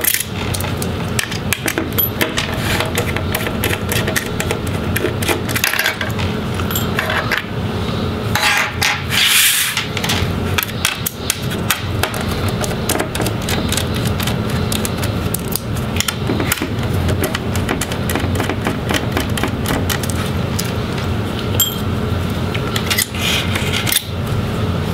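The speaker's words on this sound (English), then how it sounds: "I'll go ahead and get the hinges off, a couple screws each." Hinge screws removed from an Asus GL503GE laptop, with steady close rubbing, scraping and small tool clicks continuing throughout at an even, fairly loud level.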